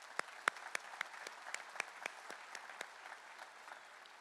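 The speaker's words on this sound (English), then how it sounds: "I think we owe you a round of applause as well" Applause from the audience at a Texas DPS trooper trainee graduation ceremony, sounding faint and distant, with scattered sharp claps standing out over a soft, thin patter.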